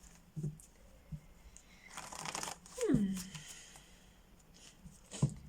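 Tarot cards shuffled by hand in a few quick papery bursts, the longest riffle running about a second. Quiet and close, with a short rising vocal-like sweep and light taps between the shuffles.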